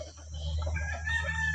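Free-range village chickens cluck and a rooster crows inside a coop bedded with rice husks, moderately close over a low steady hum.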